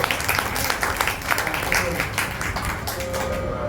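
An audience at a Jain sangh program during Paryushan bursts into a dense round of clapping that lasts throughout, with voices mixed in.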